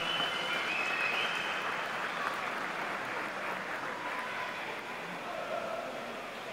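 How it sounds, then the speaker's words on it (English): Audience applause for a swimmer at a national swimming championships in an indoor pool venue, a steady wash of distant clapping from the stands, even and moderately loud, slowly fading slightly. "Give her a big round of applause, ladies and gentlemen"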